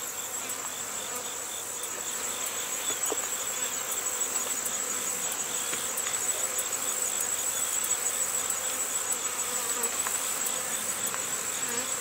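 Honeybees hum in an open hive of combined colonies during an autumn inspection of the frames. A steady, close buzzing drone runs throughout, with individual bees buzzing past now and then, and nobody speaks.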